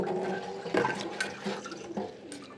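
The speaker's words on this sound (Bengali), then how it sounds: "সাবুদানা ভালো করে ধুয়ে কিছুক্ষণ হচ্ছে ভিজায় রাখবো" Sago pearls for payesh are rinsed with water in a bowl, a close, continuous swishing and splashing of water moving over the grains for a few seconds.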